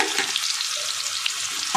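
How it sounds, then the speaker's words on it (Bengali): Chopped garlic and ginger fry in hot oil over a high flame, a loud, even close-up sizzle with a light stirring scrape at the end; nobody speaks. "রসুন কুচিটা দিয়ে দিলাম, এবার আদা কুচিটা দিয়ে দেবো, দিয়ে এবার কাঁচা গন্ধটা যাওয়া পর্যন্ত একটু ভেজে নেব।"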